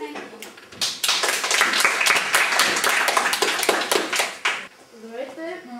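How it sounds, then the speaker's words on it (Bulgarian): An audience at a children's talent show final claps enthusiastically for the finalists, dense applause that swells, then fades as a voice begins speaking. "Аплодисменти!"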